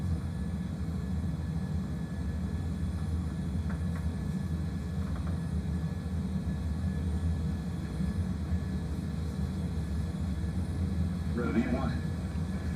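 Airliner takeoff roll in a VATSIM flight simulator on departure from Washington Dulles, a steady broadband engine and runway rumble holding evenly throughout, with a brief higher whine rising near the end.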